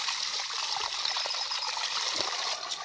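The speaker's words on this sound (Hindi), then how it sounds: "ये देखिए अभी पानी अपने ऊपर आएगा" Water welling up and flowing out of the ground in a village field gives a steady, close trickling and gushing that carries on without a break through the whole clip, with no voices.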